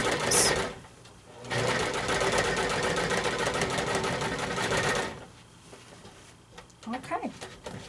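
A sewing machine stitching quilt applique runs in a steady rapid mechanical whir for about four seconds, then stops; a person talks before and after the stitching.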